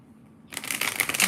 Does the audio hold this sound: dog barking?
no